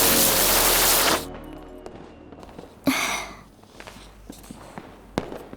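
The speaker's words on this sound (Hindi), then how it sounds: "हमारे साथ चल के पटाखे चलाओ ना।" Diwali firecrackers and fireworks go off: a loud sustained crackling burst opens, then a sharp bang and scattered pops and snaps follow at lower level, fairly close.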